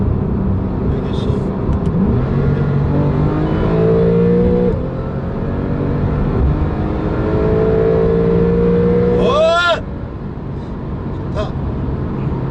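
A Porsche 911 Carrera (991 Mk2) turbo in Sport Plus mode drops from fifth to third gear and accelerates hard, its engine note rising in steady sweeps from inside the cabin while someone talks over it.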